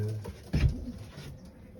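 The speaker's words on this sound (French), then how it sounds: "C'est un très bon pigeon." A racing pigeon gives a single low, close coo, one short throaty burst in a quiet space.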